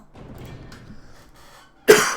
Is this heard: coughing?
yes